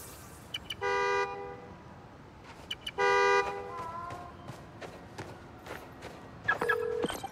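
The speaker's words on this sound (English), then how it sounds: "Now I can use the fob to find the car." Car horn honks in the video game Spider-Man: Miles Morales, sounding in two distinct steady blasts about two seconds apart, followed later by a shorter tone over background game ambience.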